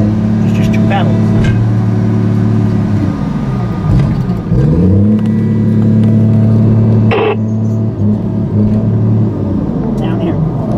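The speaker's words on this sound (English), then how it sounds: "everything you touch has its own motor to it, so it goes wide open when you touch it" Skidder engine running with a steady low drone and a couple of revs rising and falling, loud and close, with people talking over it.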